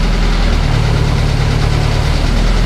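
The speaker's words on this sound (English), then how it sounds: "to set an engine speed and do the controls from the gear shift lever" A vintage boat's inboard engine runs steadily at a set throttle, a loud, close, continuous low drone with a faint rhythmic knock and no voices over it.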